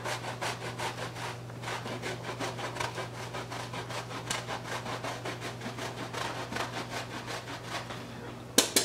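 Eggs are beaten with pecorino cheese for an asparagus frittata, a fast steady run of scraping whisk strokes against a bowl, close and continuous, over a faint low hum.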